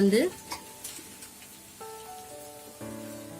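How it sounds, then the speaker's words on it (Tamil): Tomatoes sautéing in a pan for mutton egg kothu parotta give a soft, steady sizzle with light stirring scrapes. Faint tonal sounds sit behind it, and a brief louder burst opens the clip. "தக்காளி நல்லா மசிஞ்சு வதங்கி வரணும், அது வரைக்கும் நல்லா வதக்கிக்கோங்க"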